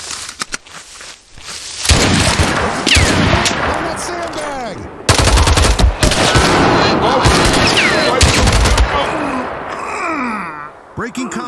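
Gunfire in the video game Mud and Blood, with loud, close bursts of rapid shots and single cracks repeating across the scene, mixed with shouted voices and game sounds.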